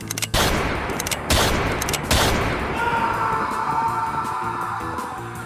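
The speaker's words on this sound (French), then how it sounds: "Charlène rechargea son arme et envoya ses dernières cartouches se perdre dans l'air." Rifle shots in a western audiobook set near a frontier fort in the Appalachian forest: three loud, sharp cracks about a second apart, each leaving a long reverberant tail, with a sustained ringing tone lingering afterward.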